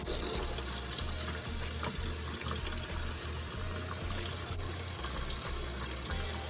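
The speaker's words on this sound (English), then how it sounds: "so just going to water it in with lukewarm" Lukewarm tap water pours in a steady, close gushing stream onto a Hoya plant in a large plastic nursery pot, splashing continuously without any speech.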